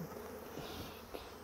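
Honeybees in an opened hive during an inspection give a steady, continuous, fairly soft buzzing that holds evenly throughout, with no talking.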